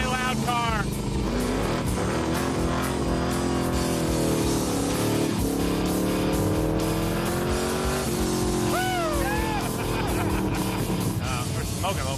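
A loud 1974 Chevy Corvette hot rod revs hard in a garage, its engine roaring and rising in pitch with a steady throaty rumble, while people talk over it.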